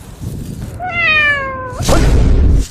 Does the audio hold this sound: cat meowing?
yes